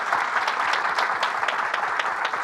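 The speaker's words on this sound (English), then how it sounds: "just wanted to give them a quick round of applause" A small conference audience applauds, dense steady clapping with no voices, moderately close and even throughout.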